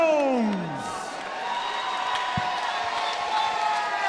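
Fans at a bare knuckle boxing event in Cardiff cheer and whoop as a popular fighter enters the ring. The crowd roars at a distance and sustains its noise throughout, with a whistle and scattered shouts rising above it.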